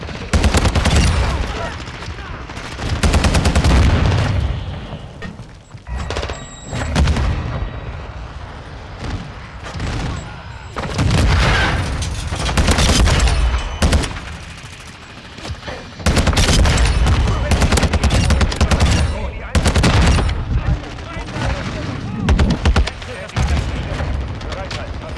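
Repeated bursts of Taq V battle rifle gunfire in the video game Modern Warfare 2, loud and close, with brief pauses between volleys and someone talking over parts of the action.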